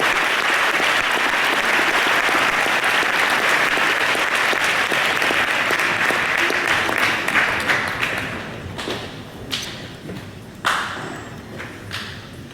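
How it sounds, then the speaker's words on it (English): A big round of audience applause for graduates of the class of 1963 at a scholarship presentation, a loud sustained roar of clapping that fades after about eight seconds into a few scattered final claps. "Let's have a big round of applause for our pirate graduates in the class of 1963, Mr. Bob Barker."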